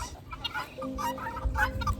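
Several roosters cluck and murmur nearby in short, overlapping bursts, with a steady hum running underneath.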